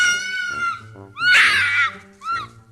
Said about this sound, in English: apparently, that's just the sound a fox makes